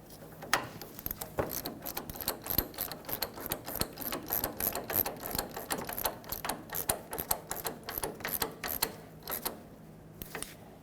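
Ratchet snugging the tie rod mounting nut on a 2000-2005 Ford Excursion, a steady run of quick, crisp clicks repeated close by for about eleven seconds at moderate volume, with no talking.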